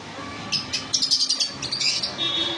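Pet cockatiels and lovebirds kept at home chirp in quick, bright bursts of tweets that bunch together and overlap, sounding close and fairly loud over a low, steady background.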